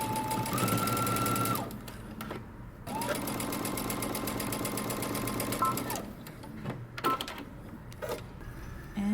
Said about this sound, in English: go to the sewing machine and you're going to stitch these down